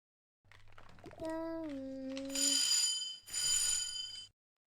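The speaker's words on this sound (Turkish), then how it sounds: "zil çaldı" A bright electronic school bell rings in two loud bursts, with a brief gap between them, after a short tone and some faint background chatter.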